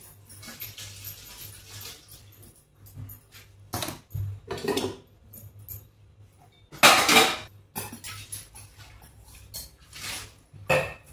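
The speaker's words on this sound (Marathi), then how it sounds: "बेसिन भरलं भांड्याने." Dishes, pots and utensils clatter in a basin full of used kitchen vessels. Scattered close clinks and metallic knocks come in irregular bursts over a low background, with a louder clatter partway through.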